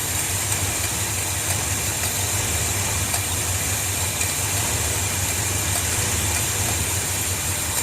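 The engine of a 1978 Ford F150 Supercab runs at a steady idle nearby, giving a constant low rumbling drone with a faint mechanical clatter on top and no changes in pace.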